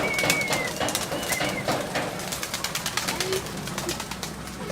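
Pigeons kept in Urdaneta, Pangasinan coo softly and repeatedly against a busy outdoor background, with a few faint chirps mixed in.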